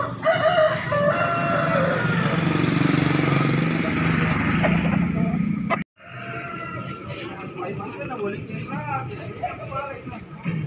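Roosters crowing and hens clucking fill a busy chicken market in Tamalate, Makassar, with people talking and a motorcycle passing nearby, the bird calls loud and close throughout.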